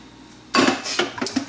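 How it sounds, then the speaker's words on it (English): Onions tumble into a cooking pot with a sharp clatter, followed by a few lighter knocks and scrapes of utensil against metal, close and loud with no talking. "So I'm going to add some onions to it."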